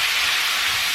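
Lean ground beef searing in a pan on a stovetop at high heat, a loud, steady, close sizzling hiss with no break.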